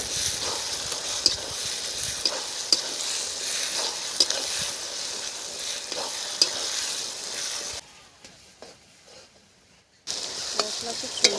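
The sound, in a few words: frying ginger paste and spices in a pan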